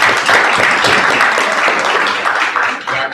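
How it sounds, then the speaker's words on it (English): Applause at a university board of supervisors meeting, a room full of people clapping steadily for several seconds, close and fairly loud, thinning slightly toward the end. "another round of applause."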